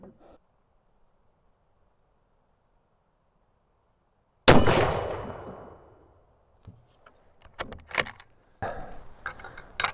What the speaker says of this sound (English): That last shot was way off the mark.